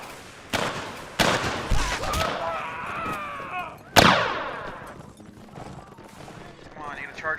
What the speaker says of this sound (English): I can hear so many bullets going past me right now